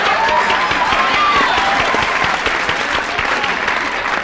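An audience at a meeting applauds: dense, loud, steady clapping from many hands that fills the room and tapers slightly toward the end.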